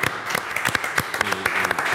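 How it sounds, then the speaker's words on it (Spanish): Scattered applause from a small audience at a talk show, a few hands clapping in uneven bursts that stay fairly quiet and close. "Vamos a aplaudir acá."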